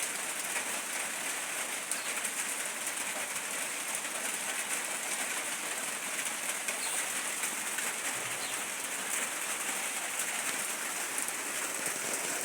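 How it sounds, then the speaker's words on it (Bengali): Steady rain pours down outdoors on an October morning, a dense, even hiss that never lets up, with faint bird calls now and then behind it and no voices. "আজকে 7টা বাজে বৃষ্টি নেমে গেছে।"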